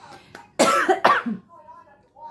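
Two sharp, close coughs in quick succession, followed by a faint murmur of a voice.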